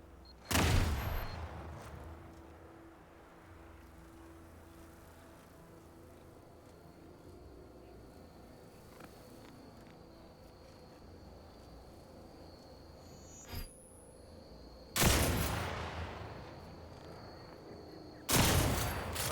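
Mines shot in The Outer Worlds 2 blow up in a few sharp, loud blasts with a quiet hum between them, one early and two close together near the end.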